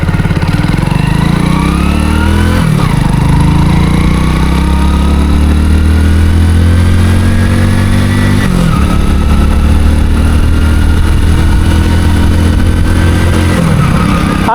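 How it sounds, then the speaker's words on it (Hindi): A motorcycle engine starts and pulls away on a road, its loud, steady drone rising and falling in pitch with several throttle changes as the bike rides toward a speed breaker, running continuously with no talk. "एक बार अपनी बाइक को स्टार्ट कर लेते हैं और चलते हैं"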